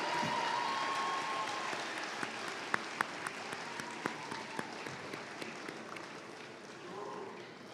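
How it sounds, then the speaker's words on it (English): Graduates at a spring commencement ceremony give their supporters sustained applause: a broad, steady wash of crowd clapping with scattered sharper claps, fading slightly toward the end. "give those who supported you a rousing round of applause"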